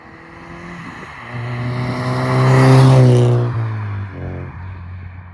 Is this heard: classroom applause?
no